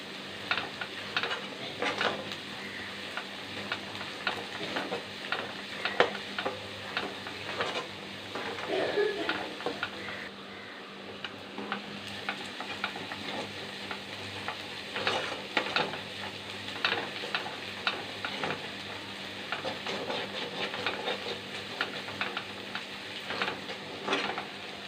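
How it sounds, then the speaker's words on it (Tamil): Onions sauté in oil in a pan for egg gravy, a continuous soft sizzle under repeated scraping and clicking of a stirring spoon, close up. "வெங்காயத்தை நல்லா வதக்கணும்"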